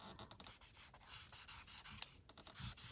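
Marker scratching and rubbing across an art journal page, a faint, close, uneven run of short strokes with brief pauses.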